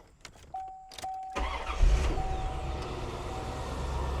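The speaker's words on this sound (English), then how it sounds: "We'll start the engine." A 1993 Chevrolet Corvette convertible engine cranks and catches after a few chimes and clicks, then settles into a steady low idle, close by.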